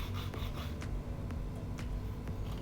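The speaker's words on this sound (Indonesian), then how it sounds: "Kita amplas ya bagian samping-sampingnya biar kelihatan lebih rapi dan lebih bagus." Sandpaper rubbing along the sides of a wooden piece in short, repeated rasping strokes, faint and close, with no talking.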